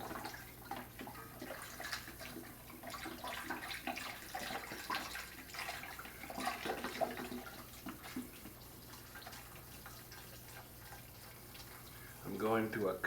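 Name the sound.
pouring beef bone broth into pot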